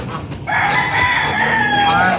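A rooster crows at a backyard chicken coop, a loud nearby call that rises and holds for about a second and a half, with hens clucking faintly in the background.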